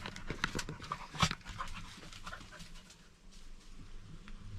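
A dog pants outdoors near an ancient village and holy well site, rapid rhythmic breaths close by, with birds calling faintly in the background.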